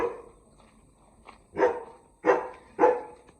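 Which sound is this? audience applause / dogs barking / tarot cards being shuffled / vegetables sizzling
dogs barking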